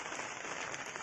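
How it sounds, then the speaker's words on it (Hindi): Heavy rain falling in a steady dense hiss of drops on surfaces, loud and unbroken, with no voices. "बड़ जोर से वर्षा है"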